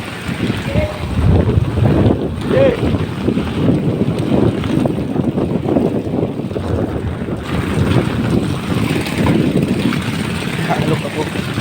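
Strong gusts batter the microphone outdoors after a flood, a loud, low, roaring buffet that surges and eases over several seconds.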